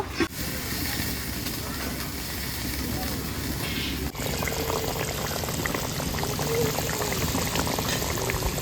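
Mustard hilsa simmering in a covered pan gives a steady bubbling hiss with a soft pouring, watery texture throughout, plus a brief knock near the start and a slight shift midway.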